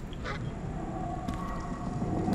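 A goose honks in the video game Atomic Heart, a short nasal call near the start over a continuous game background.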